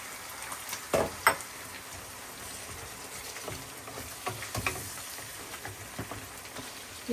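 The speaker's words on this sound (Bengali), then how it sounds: "মাছটা অনেক মজা আর এটার মধ্যে একটু গন্ধ তাই ফ্রাই করে নিচ্ছি" Fish fries quietly in a pan, a soft, faint sizzle broken by a few sharp clicks and light knocks, with no voices present.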